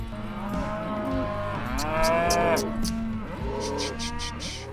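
Cows and calves low repeatedly at a farm gate, long drawn-out moos overlapping one another close by, with several animals calling in turn.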